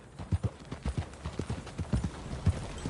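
Horse hooves clip-clopping at an easy walk in Red Dead Redemption 2, a steady uneven rhythm of close hoof strikes on a trail, with no talk over them.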